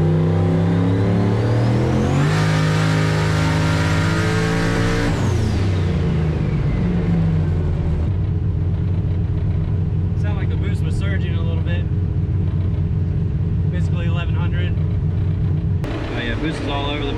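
A turbocharged Foxbody Mustang engine running more boost revs up loudly and climbs steadily, then drops back to a rough, throbbing idle, with voices talking over the engine noise.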